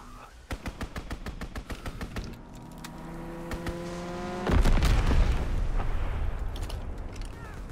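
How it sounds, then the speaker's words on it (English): Strafing run in the World War II video game Call of Duty: WWII, with rapid bursts of machine-gun fire that build into a heavy, roaring barrage of explosions and continuous rumbling gunfire. "Strafing run inbound."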